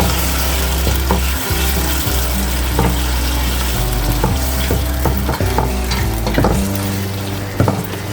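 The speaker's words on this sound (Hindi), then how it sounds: "ये हम इसमें चिकन डालते हैं।" Chicken fries in hot oil in a pan for achar gosht, with a loud, continuous sizzle broken by irregular clunks and scrapes of stirring close by, and no voices.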